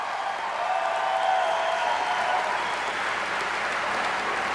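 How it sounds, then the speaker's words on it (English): Sustained applause from a large audience at a political dinner, a dense, even wash of clapping filling the room, with no voices standing out above it. "Give a big round of applause to Tim Kaine."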